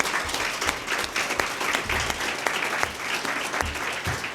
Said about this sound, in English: ask all of you to give them a round of applause and congratulate them